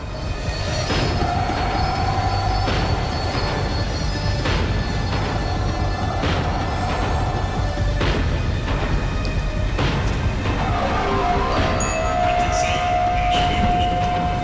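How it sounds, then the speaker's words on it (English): A tram in the Max Payne 3 video game rolls along the rails as it slows, a loud continuous rumble with squealing wheels and rattling carriage noise throughout. "The tram was slowing down"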